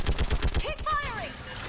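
Rapid bursts of video game gunfire from Mass Effect 3, a quick run of loud, evenly spaced shots at the start, followed by sweeping electronic tones and combat effects, with a voice shouting over the battle.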